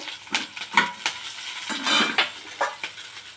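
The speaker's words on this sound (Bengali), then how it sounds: "পেঁয়াজটা ভেজে নিই" Onions frying in a pan for chowmein, with irregular spatula scrapes and clinks over a soft sizzle, close and moderately loud, no talking.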